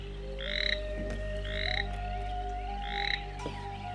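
Three loud, close, buzzing croaks from a three-spotted toad, evenly spaced over a few seconds against a steady background hum.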